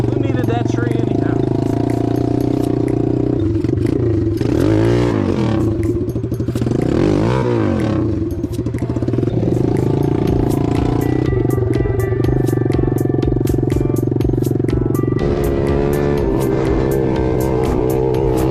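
Chinese pit bike engine buzzing and revving during a test ride, loud and close, with clattering and scraping as the bike moves and someone talking over it.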